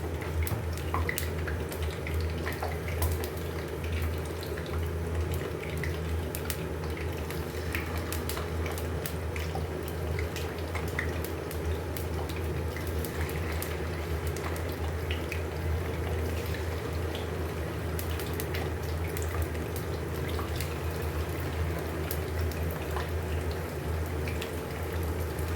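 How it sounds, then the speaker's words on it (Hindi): Marinated fish frying in hot oil over low heat, a steady close sizzle and bubbling hiss with occasional crackles running throughout without talk. "यहाँ पर हमने ऑयल को गर्म कर लिया। अब इसमें हम फ़िश ऐड कर लेंगे।"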